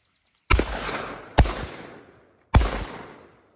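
Shotgun fired at clay targets outdoors: three sharp, loud blasts spaced about a second apart, each trailing off in a rolling echo.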